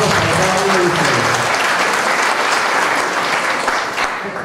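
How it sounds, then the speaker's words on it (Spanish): Strong, sustained applause from a community audience at an agreement-signing event in Zacatecoluca, dense clapping filling the room at steady loudness before tapering slightly at the end. "Fuerte los aplausos para cada uno de ustedes."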